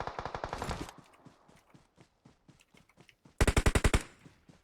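Enemy gunfire in the battle-royale game PUBG Mobile: a loud burst of rapid automatic shots, then scattered fainter single cracks, and a second sharp rapid burst near the end.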